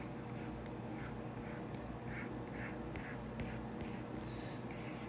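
Pen strokes writing out math work, steady scratchy bursts repeating in a quick rhythm over a constant low hum, close and clear with no talking.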